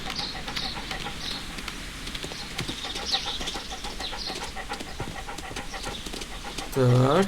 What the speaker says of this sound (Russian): Давай, молодец, Тоби, хорошая собачка.